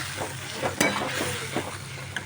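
Chili powder and tomato paste sautéing in oil for a pointed gourd and prawn curry, a steady close sizzle with soft scraping stir strokes and one brief clink of utensil on pan.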